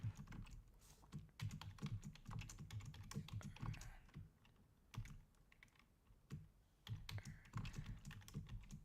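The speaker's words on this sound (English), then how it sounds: "Let me just type in a quick banner." Continuous rapid typing on a computer keyboard for several seconds as a quick banner is entered, dense clicky keystrokes with brief pauses, fairly faint and close.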